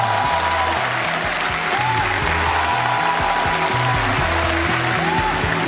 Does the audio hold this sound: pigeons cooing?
no